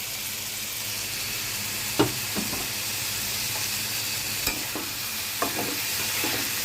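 Chilies being stirred into dried fish bhuna frying in a pan: a steady, loud sizzle runs throughout, broken by a few sharp scrapes of the spoon against the pan.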